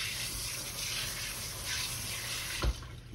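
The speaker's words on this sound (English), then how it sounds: "Wash my hand right quick." A kitchen tap runs steadily while hands are washed at a sink during meat preparation, a continuous broadband hiss of flowing water with a brief splash near the end.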